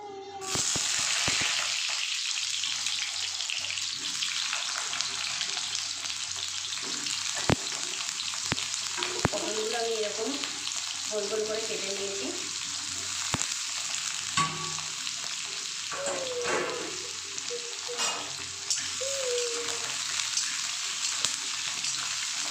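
Pointed gourd (potol) pieces fry in hot oil in a wok, a steady loud sizzle lasting throughout, with occasional clinks and scrapes of stirring and brief tonal bits of faint voice in the background.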